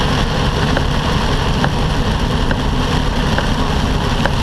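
Heavy rain while driving a truck on the road near Chicago: a dense, steady wash of rain and road noise with a low engine rumble beneath and faint regular ticks, loud and continuous.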